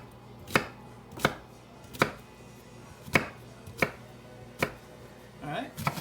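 A large onion being chopped into big chunks on a cutting board for Cajun gumbo: seven or eight sharp, evenly spaced knife strikes close by, with no talk.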